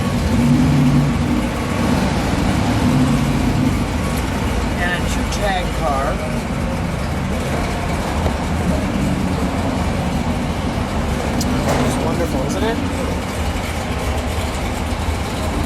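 A yellow 1971 Dodge Challenger R/T with a 426 Hemi and shaker hood runs at a steady, loud idle throughout, a deep continuous low rumble with people talking over it.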